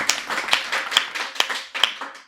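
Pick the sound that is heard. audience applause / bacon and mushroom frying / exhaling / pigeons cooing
audience applause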